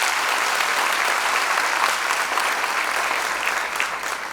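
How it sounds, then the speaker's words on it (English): A crowd at a first-year student orientation in Durban applauds with a thick, steady wash of clapping that stays loud throughout, easing only slightly near the end. "Could you please give them a round of applause?"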